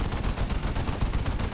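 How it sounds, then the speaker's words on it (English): A Salamanders thunder cannon fires in a Dawn of War Unification battle against the Death Korps of Krieg. Dense, rapid blasts pound continuously in a loud, rough barrage. "Big DPS from this thunder cannon."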